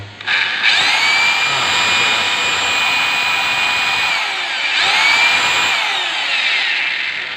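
A Makita M8701 rotary hammer drill running in plain drilling mode: loud, close, high-pitched motor whine in two sustained runs, each revving up and winding down, with no one talking.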